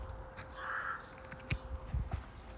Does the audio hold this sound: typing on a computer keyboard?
no